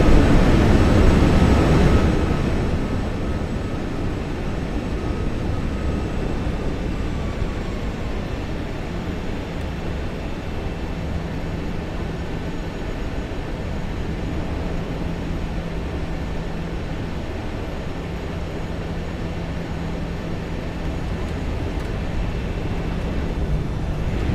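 In a flight simulator game, an airplane roars on approach and landing, a loud rushing burst at the start easing into a steady, even drone of engine and wind noise.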